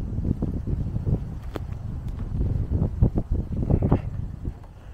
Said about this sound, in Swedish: Lite blåsigt idag